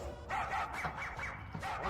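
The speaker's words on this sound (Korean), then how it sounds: "아 강아지? 우리 멍멍." A dog named Seolgi barks and yips in a rural countryside outing near Chuncheon, a few quick close barks in a short burst with no talking.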